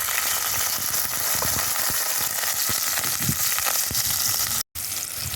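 Onion, pepper, garlic, scallion and sweet corn fry in a pot for a Jamaican sweet corn and egg dish, giving a close, continuous crackling sizzle with small pops and a brief cut near the end.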